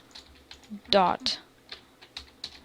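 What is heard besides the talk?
typing on a computer keyboard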